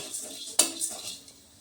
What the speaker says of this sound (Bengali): ছোলার ডাল কিছু নিয়ে নিয়েছি, এগুলোকে হালকা করে একটু ভেজে নেব